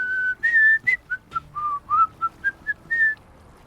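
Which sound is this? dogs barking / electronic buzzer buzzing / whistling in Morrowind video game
whistling in Morrowind video game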